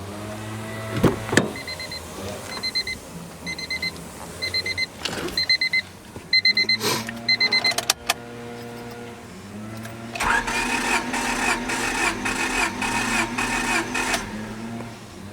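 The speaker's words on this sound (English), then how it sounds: "go inside the car and crank it over for about 4 to 5 seconds" Car engine cranking over with the key for a cylinder compression test: a steady, rhythmic churning of starter and engine for several seconds, preceded by a series of repeated electronic chime beeps and clicks.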